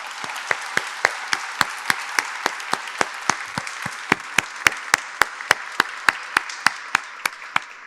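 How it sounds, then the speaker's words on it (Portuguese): Audience applause for the staff of a Brazilian cultural institution at an exhibition opening, a dense steady crowd clapping with sharp, evenly spaced louder claps standing out throughout, no talking. "uma grande salva de palmas"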